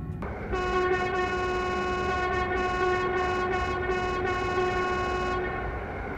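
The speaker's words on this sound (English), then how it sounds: "there's a train. Hello, train." A train passing in Train Simulator Classic on the Frankfurt to Koblenz line, sounding a long, loud horn blast in several pulses over a constant rumble of rolling wheels, close by, with no speech.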